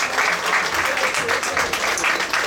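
An audience at a book fair literary evening applauding a newly formed band, a dense, continuous clapping that fills the room at close range, with a voice speaking beneath it.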